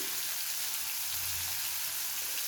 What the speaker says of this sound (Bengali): এবারে পেঁয়াজটাকে আদা রসুনের সাথে খুব ভালো করে ভেজে নিতে হবে